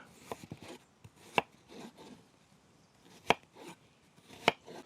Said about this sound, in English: Doesn't matter how finely you dice it, because it's going to be blitzed in a minute anyway.